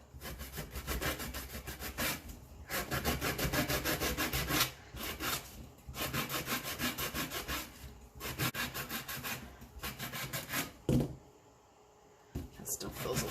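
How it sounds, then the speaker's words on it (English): A smashed metal can gets its rough, sharp edges sanded by hand, a close run of rhythmic rasping back-and-forth strokes in bursts with short pauses, and a voice talks briefly in between. "So I just want to sand, get the rough edges off, just so nobody cuts themselves."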